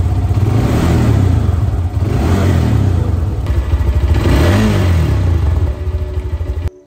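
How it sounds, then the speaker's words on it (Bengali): A GPX Demon GR 165RR motorcycle engine revs hard through its stock exhaust, with a loud, steady drone that rises and falls in several throttle swells before cutting off abruptly at the end. "জিপিএক্স ডেমনের এক্সস্ট সাউন্ড যেটা অথেন্টিক দেওয়া থাকে ওইটাই অনেক বেটার"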